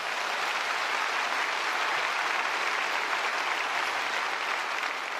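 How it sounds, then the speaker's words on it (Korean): A church congregation applauding at the opening of a Pentecostal world conference, a dense, even wash of many hands clapping that holds steady throughout, fairly loud and unbroken. "하나님께 영광 박수 돌리겠습니다."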